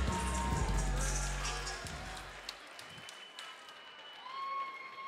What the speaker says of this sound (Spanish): vamos a darle un fuerte aplauso a ambos peleadores